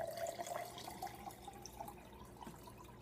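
Water trickles and splashes softly into a container of Jolly Rancher candies, a faint steady pour with small drip-like plinks, quiet and close, no talk.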